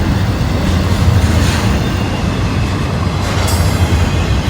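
A freight train with covered hopper cars rolls past heading into a rail yard, a steady, loud rumble of wagons and wheel noise that holds constant throughout with no voices.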